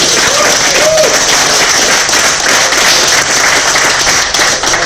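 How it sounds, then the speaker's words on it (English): Sustained crowd applause and clapping at a bass fishing tournament weigh-in, steady and loud throughout as an angler is welcomed on stage. "You guys give him a round of applause."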